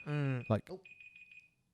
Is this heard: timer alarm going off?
yes